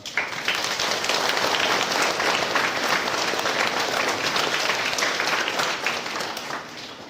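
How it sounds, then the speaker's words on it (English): Students at a Catholic school morning assembly applaud together, a dense, sustained wash of clapping from a large group that fades slightly at the end. "So once again, we give them applause."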